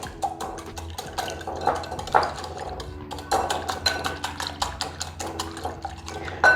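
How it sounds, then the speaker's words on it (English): Eggs whisked in a bowl with black pepper and thyme, the whisk scraping and clinking in quick, steady strokes over a constant tonal background. "Whisk."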